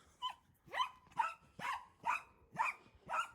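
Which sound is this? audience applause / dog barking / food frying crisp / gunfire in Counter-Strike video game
dog barking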